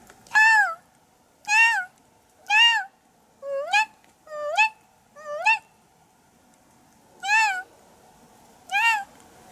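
A human voice imitates a common buzzard's mewing cry, repeating a drawn-out, cat-like call about eight times with short pauses between.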